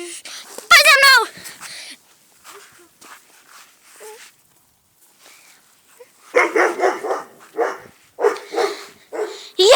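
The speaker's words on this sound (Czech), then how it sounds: "zase ten bufl štěká" A dog barks in a sharp close burst, then a longer run of repeated barks follows a quiet stretch at a campsite outdoors.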